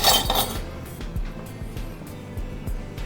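A spoon clinks against a bowl while meringue is added, several sharp ringing taps scattered at an irregular rhythm, close and fairly clear over a light background.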